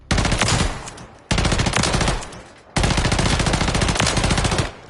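Three long bursts of rapid automatic gunfire from a weapon at the firing range in Modern Warfare 3, loud and close, each burst lasting over a second with brief pauses between.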